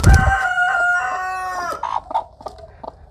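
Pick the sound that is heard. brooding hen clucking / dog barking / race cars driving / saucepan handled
brooding hen clucking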